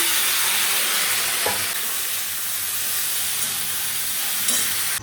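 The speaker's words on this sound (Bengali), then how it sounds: "এই যে আমাদের কাঁঠালের জন্য আলু ভাজতে চাপিয়ে দিয়েছি তার সাথে একটা টমেটো দিয়েছি" Potatoes frying in oil with a tomato for a vegetarian jackfruit dish, a loud, continuous close sizzle and hiss with a couple of brief utensil clinks.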